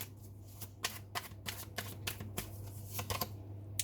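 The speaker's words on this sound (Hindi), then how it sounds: "निकाल लेते हैं कार्ड्स अपना आंसर जानने के लिए।" A deck of tarot cards shuffled by hand, with repeated quick riffling bursts of papery flutter over a steady low hum, close and fairly quiet, with no talking.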